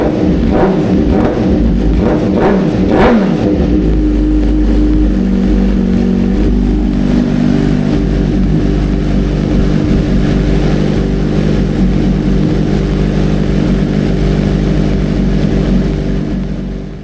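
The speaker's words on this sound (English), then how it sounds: "You can see here that I'm spinning the wheel, but it sounds real scratchy and it's not exactly smooth." The rear wheel of a wrecked 2022 Suzuki GSX-R1000R spins with a scratchy, uneven rough sound under a loud, continuous low mechanical rumble. A few rising whooshes come early, then a steady drone holds close by for the full length.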